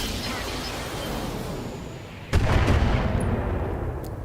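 A mech weapon firing in the Battletech video game, a sudden heavy boom that cuts in after a steady low rumble and rolls on loudly with a dense, sustained roar.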